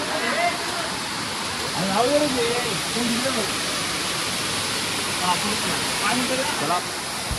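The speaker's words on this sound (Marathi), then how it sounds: "हा आहे सुंदर असा भीमकाय धबधबा." A powerful, huge waterfall in Kolhapur district roars in a constant, broadband rush, with faint voices of people talking intermittently beneath the noise.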